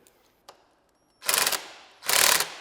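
Hand wrench tightening the 14 mm bar clamp bolts on an RFN Warrior Pro SX-E15 electric dirt bike: two bursts of rapid ratchet clicking, close and fairly loud, after a faint tick and a quiet pause.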